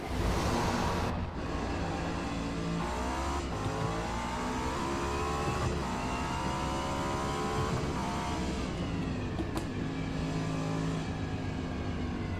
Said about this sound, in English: these GTP cars sound absolutely epic